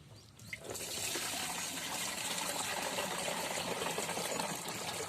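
Water is poured steadily into the 16-litre tank of a battery-powered sprayer, making a continuous close gushing and splashing fill that starts abruptly and holds for several seconds with no talk.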